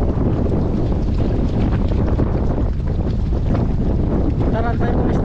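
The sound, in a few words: strong wind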